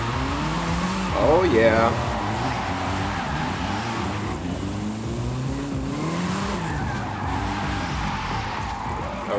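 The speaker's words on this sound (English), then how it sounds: "and the wheels are spinning" Alpine A110 1600S from 1973 drifting in Forza Horizon 5, its engine droning steadily with a brief rising tire squeal and wheelspin early on, under a voice talking over the game.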